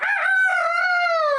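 A person imitates a rooster crowing in one loud, close, drawn-out cock-a-doodle-doo call with strong tonal harmonics, heard alone.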